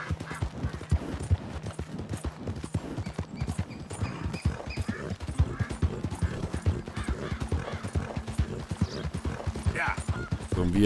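Horse hooves clip-clopping in a steady, brisk rhythm while riding in Red Dead Redemption 2, close and continuous throughout, with faint game ambience beneath.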